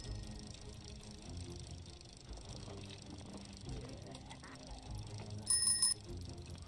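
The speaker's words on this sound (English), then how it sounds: "That's the horn for the bike, right?" A bicycle bell in Project Zomboid gives one short, bright ringing burst near the end, standing out over a quiet, low background.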